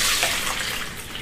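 Water from soaked cashews pours and drains through a strainer, a close, steady rushing splash that gradually eases off.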